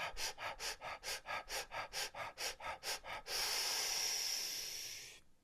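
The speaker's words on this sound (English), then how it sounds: "Fire breathing one more time. Here we go. Try it through your mouth." Rapid rhythmic breaths pushed through the mouth in a fire breathing exercise, about a dozen close, even puffs, then one long sustained hissing exhale that fades out.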